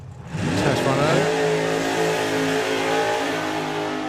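A drag racing car launches hard off the line at a Sportsman Nationals street weekend, its engine surging from a low rumble into a loud, sustained, rising roar that stays close and steady, with a commentator's voice underneath.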